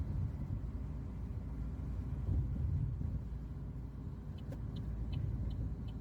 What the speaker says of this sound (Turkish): Arkanda araba mı var?